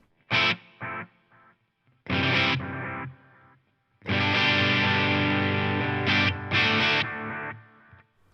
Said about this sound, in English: the first thing I want is my analog echo, which sounds like this.